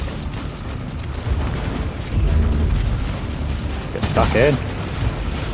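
Blast-point minefield charges detonating in Warhammer 40,000: Inquisitor - Martyr, low rumbling booms rolling under continuous battle noise, with someone speaking briefly near the end.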